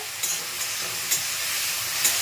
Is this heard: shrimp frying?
yes